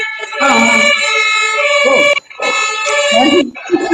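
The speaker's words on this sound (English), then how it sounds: "Sirens." A wailing siren sweeps up and down steadily, fairly close and loud, with a brief dip partway before it resumes.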